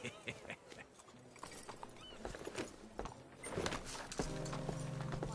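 In Red Dead Redemption 2, a horse's hooves clip-clop at a steady walking pace with a whinny and creaking tack. Mechanical clicks join in, and a low tonal drone builds toward the end.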